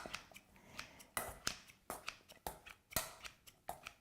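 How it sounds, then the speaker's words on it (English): Salad chopper scissors snip through cooked white and brown turkey meat in a bowl, a quick run of about ten crisp, close cuts in an irregular rhythm. "I'm going to use my salad choppers"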